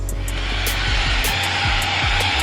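Naisigoo laser hair removal device running close by, giving a steady broadband whirring hum like a small fan, with faint repeated clicks and pulses over the drone.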